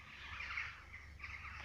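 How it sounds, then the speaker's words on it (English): An unidentified bird calls outdoors in a field where nettle stalks are being peeled, giving faint squawking calls in two bursts over low background rumble. "Some strange bird behind me."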